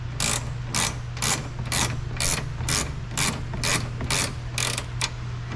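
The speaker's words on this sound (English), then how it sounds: "Retightening the fastener." A ratchet clicks in repeated short bursts, about ten strokes, as a fastener is retightened on a 2016 Ford Focus 2.0, close and crisp over a steady low hum.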